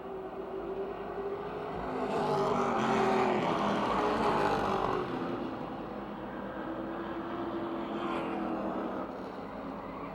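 Stock cars racing at Motordrome Speedway, with a continuous loud roar of several engines that swells around the middle as the pack passes close, then settles to a steady drone.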